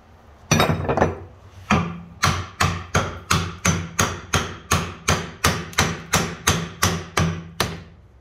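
Hammer blows ring out during work on a 1995 Dodge Ram Cummins pickup, about fifteen sharp, evenly spaced strikes in a steady rhythm, loud and close with no talking.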